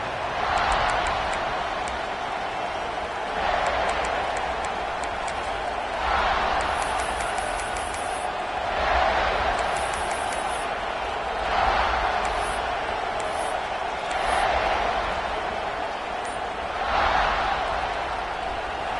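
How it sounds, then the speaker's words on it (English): Stadium crowd at a college football game in a video game, a steady broad roar that swells in regular waves every few seconds, with brief higher whistle-like bursts near the middle. "This crowd ready to make its presence known."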